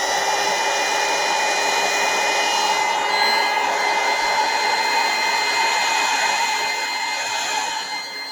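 Hair dryer blowing on wet watercolour paint for a Christmas card, a steady close whooshing roar with a high motor whine, running continuously and easing slightly at the end, with no talking.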